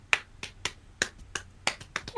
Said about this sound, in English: I'm gonna try and do the multi-clap